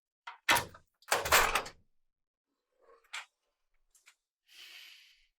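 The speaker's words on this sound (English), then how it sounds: "So if we open the door" A cabinet door on an ETOS tap changer unit is opened, giving a few short clicks and clunks of the latch and hinge, followed by a soft hiss of movement, close and fairly quiet, with no one talking.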